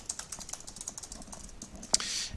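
Typing a page title on a computer keyboard, light rapid clicks in an even run with one sharper tap near the end, close and fairly quiet with no talking.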